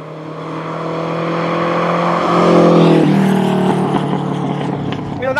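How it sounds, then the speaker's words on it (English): A Renault 5 Turbo engine gives a loud, close, sustained drone that rises and changes pitch partway through, carrying tonal whine and some rough burble as the revs shift. "There's a little bit of a whistle from the turbo, and on the overrun, if you accelerate, then let your foot off, a little bit of burbling"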